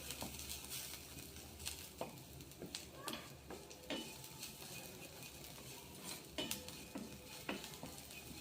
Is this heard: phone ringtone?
no